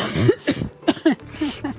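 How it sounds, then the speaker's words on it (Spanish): A woman coughs several times in a short, throaty burst, then clears her throat, close to the microphone. "Voy a toser, perdón."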